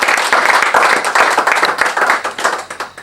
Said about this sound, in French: Applaudissez pour Patrice.